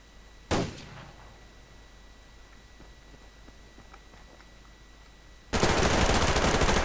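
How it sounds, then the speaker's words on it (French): Mini-Uzi submachine gun fire in the video game Survarium: one sharp shot near the start, then a loud sustained burst of automatic fire that fills the last second and a half. "Ah la mini-Uzi."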